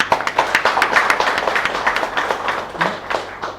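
An audience applauds fishermen rescuers at an award ceremony, a steady run of dense hand clapping from a crowd in a hall, lasting throughout.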